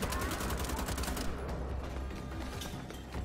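Rapid gunfire in the shooter game Wolfenstein: The Old Blood, a dense burst of automatic shots at the start that gives way to a quieter noisy tail.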